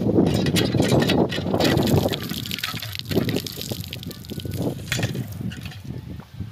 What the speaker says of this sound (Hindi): जाने से पहले यहाँ से नलके से पी लेते हैं पानी सुबह सुबह को।